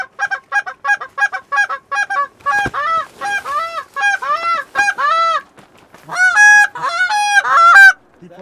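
Geese honk repeatedly and loudly on an opening-day goose hunt in Pennsylvania, in quick rhythmic bursts of nasal calls, close by, with several birds overlapping toward the end.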